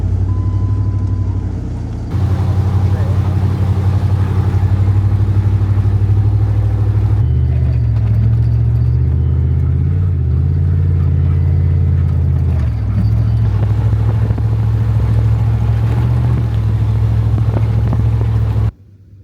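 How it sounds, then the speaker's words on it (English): An off-road vehicle drives through soft sand in a desert wash at Anza-Borrego, its engine droning loud and steady, with a brief drop in the sound near the start. "Right now we're driving down a wash in some pretty soft sand."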